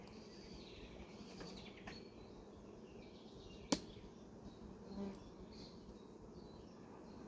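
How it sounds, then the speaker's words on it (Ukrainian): A soft, continuous buzz of many honeybees at an open hive frame, with a sharp click partway through and faint movement noises. "Ось така кількість тут бджоли, куча молоденької бджоли вийшло, ну і продовжує виходити."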